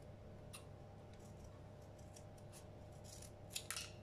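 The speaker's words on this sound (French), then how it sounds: "j'ouvre la brique entière comme ça, et je coupe un coin" Scissors snip the corner off a carton of crème fraîche in a quiet kitchen, a few faint crisp cuts near the end after low background hum.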